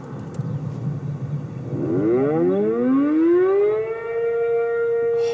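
A loud civil defense siren in Calhan winds up during a test, its tone sliding steadily upward from a low growl to a sustained high wail.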